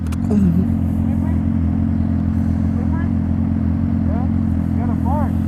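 Motorcycle engine idling with a steady low, throbbing rumble and a slight rise as the clutch is worked, while people talk over it.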